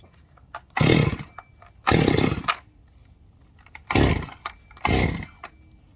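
An MS 200 duplicate chainsaw is pull-started four times. Each pull gives a short rasping burst, close and fairly loud, with quiet gaps between them, and the engine never catches.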